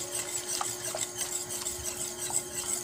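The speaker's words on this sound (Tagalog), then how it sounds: "Haluin mo lang ng haluin." A spoon stirs lumpiang sariwa sauce in a pot, giving a steady soft scraping and swishing with faint repeated taps against the side, close and continuous with no talking.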